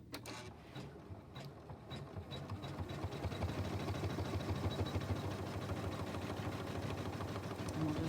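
A black-thread embroidery machine stitches steadily in a rapid, even mechanical chatter that starts softer and builds, then holds a constant loud, close whir.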